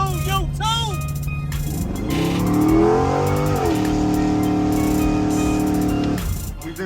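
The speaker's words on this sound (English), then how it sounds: "72 Convertible Impala LS3 swap." A 1972 Chevrolet Impala convertible with a swapped LS3 V8 revs loudly nearby, the engine climbing in pitch and holding at high revs for a few seconds before dropping back.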